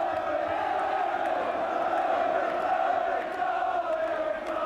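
Football crowd at Bloomfield Road roaring in celebration of a Blackpool goal against York City in a 1984 Fourth Division match, a sustained, loud mass cheer that holds steady throughout.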